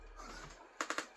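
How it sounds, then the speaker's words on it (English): A cat stepping across a computer keyboard sets off four quick, uneven key clicks near the end, close and fairly quiet, after a low murmur of room noise. "She's walking all over my keyboard."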